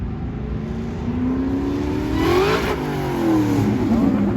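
A Toyota Supra at a car meet revs its engine hard and close by. The pitch climbs in a rising sweep to a sharp peak, drops back, then swells again, over a background of idling engines and no talk.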